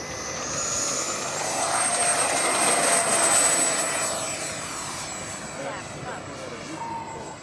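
A Flex Innovations F-100D Super Sabre model jet makes a sustained rushing, whining pass that swells to a peak mid-clip and then fades slightly, with a steady high-pitched tone over a broad roar and no talk.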